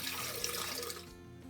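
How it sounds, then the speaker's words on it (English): Cold water pours into a blender in a steady, splashing rush that tapers off near the end. "in my blender, we're going to add in 4 cups of cold water"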